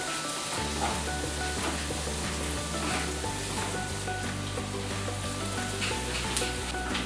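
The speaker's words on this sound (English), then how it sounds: "Now add the onions and saute till they are pinkish in color." Onions sautéing in about four tablespoons of oil in a pan while making paneer buns, a steady close sizzle with a low humming tone underneath throughout.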